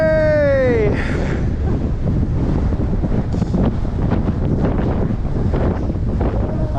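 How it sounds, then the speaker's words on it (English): Strong wind buffets the microphone on the ski slopes at Aspen Snowmass on a clear day, a loud, steady roar throughout with a brief voice at the start. "Oh, it's windy."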